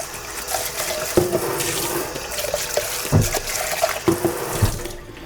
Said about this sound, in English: I'm going to wash this out right quick.